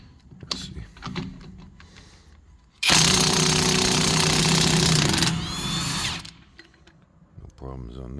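A Hercules Ultra Torque impact wrench driving a 30 mm impact socket gives one loud sustained burst of rapid hammering lasting about three seconds, with quieter handling clatter before and after.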